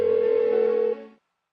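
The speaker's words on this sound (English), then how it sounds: "Why won't she pick up the phone?" A single telephone ring tone on an unanswered call, one steady electronic tone holding for about a second before cutting off and fading into silence, clear and alone.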